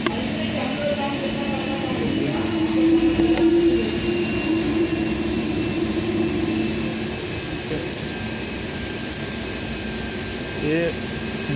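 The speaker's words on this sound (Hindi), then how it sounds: "ये सप्लाई मोटर फैन रन कर रहा है" Supply motor fan of an air handling unit running steadily, a continuous broadband whoosh with a low mechanical hum and faint tonal whine throughout, loud and close, with no other sounds standing out.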